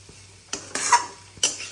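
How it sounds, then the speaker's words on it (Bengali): Food being stirred in a pan on a stove, an egg dish over raised heat, with a few brief scraping and clinking strokes separated by quiet pauses. "আস্তে আস্তে করে নেড়ে চেড়ে একটু আঁচটাকে বাড়িয়ে দিলাম"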